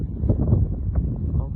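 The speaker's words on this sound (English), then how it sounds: "it's very windy" Strong wind buffets a microphone outdoors in a Florida food garden, a heavy low rumbling roar with gusty swells that stays loud and close throughout.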